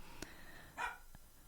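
A single dog bark, then a brief bright yelp, heard fairly close and alone over a quiet room background.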